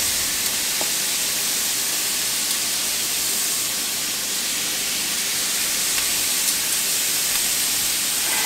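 Pepper and garlic powder seasoned food sizzling in a hot frying pan, a steady, loud hiss that holds unbroken throughout without talk.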